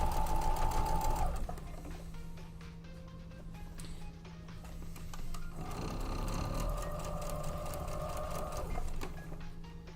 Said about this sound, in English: I'm actually sewing the last row together